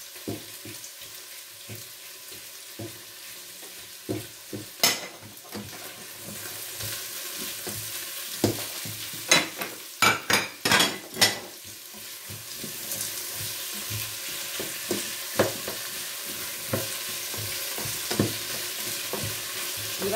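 Small chopped potato and vegetables sautéing in a pan, a soft continuous fry under scattered utensil scrapes and a quick cluster of sharp knocks midway, with faint water-like splashes in the background.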